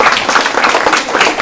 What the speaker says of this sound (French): Allez, on peut applaudir.